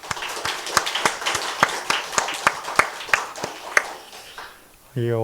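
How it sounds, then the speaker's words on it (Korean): Congregation in a church service applauding the choir: steady rhythmic hand claps, fairly close and moderately loud, tapering off after a few seconds before a tone-like sound at the end. "오늘 아주 힘이 있는 찬양을 해주는 찬양대에게 박수 한번 주시죠"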